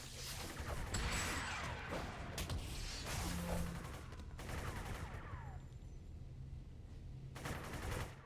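Bursts of gunfire in the City of Heroes game come in dense, loud volleys that recur across the stretch, with brief lulls between them.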